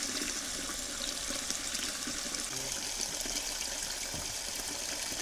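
Tap water runs steadily into a container being filled for salt water, a constant soft rushing and splashing that is fairly faint and continues without pause.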